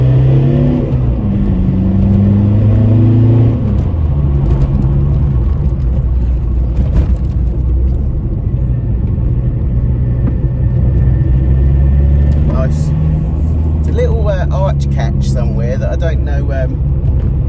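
A 60-horsepower VW Lupo SDi diesel with added boost pulls hard in third gear, the engine note climbing steadily and loudly from inside the car, dropping briefly on a lift then rising again.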